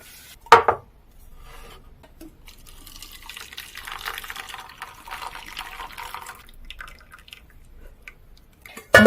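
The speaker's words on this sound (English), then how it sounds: "I'm going to go ahead and drain the water remaining on them" Water from cooked lentils being drained from a pot in a home kitchen: a soft, steady pouring trickle with a sharp clink at the start and another at the end.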